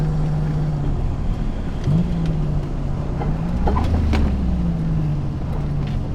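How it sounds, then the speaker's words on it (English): A 1986 widebody Nissan 300ZX idles and revs with a steady engine drone; a few faint, short metallic clanks from the drive shaft or transmission mount tick through the middle as the revs rise and fall. "It's like that little clanking sound."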